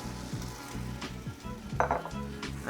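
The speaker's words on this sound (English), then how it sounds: "I'm going to add the washed rice and stir everything together" Washed rice stirred into a sizzling sauce in a pot for Nigerian coconut rice, with steady frying hiss, scraping stirs and a few utensil knocks against the pot, close and fairly loud.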